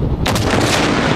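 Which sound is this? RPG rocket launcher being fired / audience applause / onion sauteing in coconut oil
RPG rocket launcher being fired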